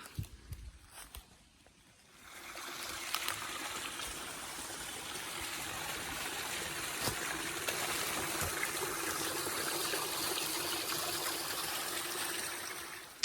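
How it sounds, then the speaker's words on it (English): A running stream or brook trickles on a California hillside in a mushroom-hunting woodland. A faint, steady burble of water rises after a quieter opening and continues unbroken, with no talking. "If you can hear in the background running water."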